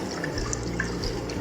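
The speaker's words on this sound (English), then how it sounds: "Then I add 6 cups of cold water." Six cups of cold water pour from a kettle into a cooking pot for kitchari, a steady close splashing rush lasting the whole moment, with no talk.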